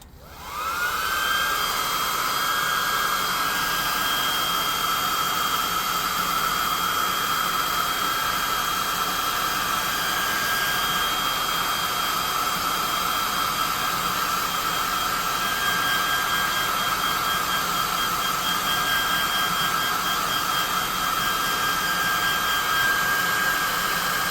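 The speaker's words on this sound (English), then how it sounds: "let's hit him with the +2 hot air gun of burning. Dry that base up." A hot air gun blows continuously to dry the base of a painted tabletop miniature, giving a steady loud whooshing roar with a high whine that stays constant from start to finish, with no talking.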